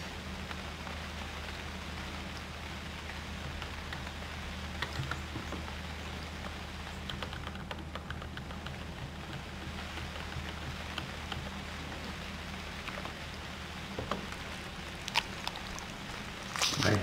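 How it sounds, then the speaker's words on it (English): Steady rain falls in the UnReal World survival game, a constant dense patter that fills the scene from start to finish, with a few slightly louder drops and thumps scattered through it. "I hear the rain, but for a while I didn't see the rain."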